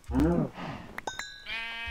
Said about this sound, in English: I just walk around and cut sheep. No, for shearing sheep.